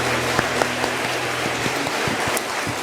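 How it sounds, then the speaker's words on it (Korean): Church congregation applauding to give glory to God during a vocal ensemble service, a soft continuous patter of clapping with a low hum underneath and a few sharper claps standing out. "우리 하나님께 영광의 박수 올려드리겠습니다."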